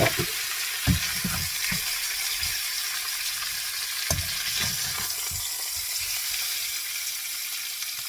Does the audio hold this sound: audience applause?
no